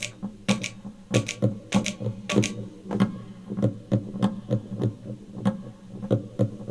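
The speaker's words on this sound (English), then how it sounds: "Now get that echo going on the beat of the music." A studio drum loop on a looper with an echo effect set to the beat, giving layered repeating percussive taps and trailing repeats in a steady pulse.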